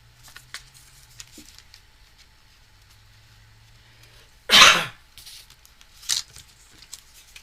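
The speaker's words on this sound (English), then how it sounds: "excuse me with that cough" A single sharp, loud cough bursts out in a quiet room, followed by a smaller cough-like burst and faint rustling.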